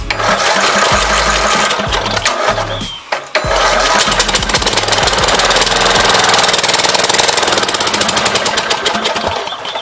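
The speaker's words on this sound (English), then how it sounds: "And the lawnmower is almost complete. Like, it runs and everything." A small Craftsman lawnmower engine runs loudly and steadily up close, a rapid rattling chug with a brief dip before it roars back.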